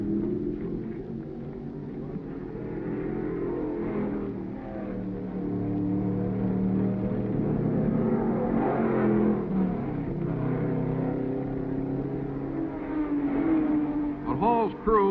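Chaparral race car at the 1965 Sebring 12 Hours endurance race, its engine droning and revving in the distance under steady crowd and track noise, with a spoken voice over much of it.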